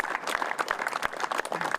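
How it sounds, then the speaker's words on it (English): A crowd at a county groundbreaking ceremony gives a brief burst of applause, with dense overlapping hand claps close by. "Give yourselves a big hand of applause, because it is a big deal."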